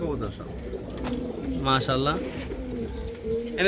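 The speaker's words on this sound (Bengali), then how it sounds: "মোট তিনশো পিস কবুতর আছে" Pigeons coo in soft, repeated throaty calls close by in a loft of about three hundred birds, mixed with the flutter and murmur of other birds and faint human voices.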